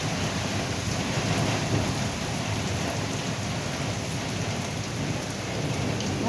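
A steady downpour falls over a rural garden with roses and flattened flowers. Dense, even rain hiss fills the whole stretch, and a low thunder rumble rolls underneath.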